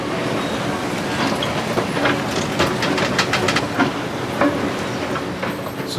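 AirTrain at Newark airport rolling past close by, with rhythmic wheel clatter and faint metallic squeals over a steady rumble, fairly loud throughout.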